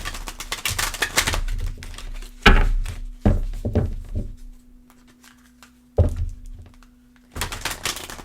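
A deck of tarot cards is shuffled close by in short bursts of riffling and soft thunks and taps, separated by near-silent pauses. Nobody speaks.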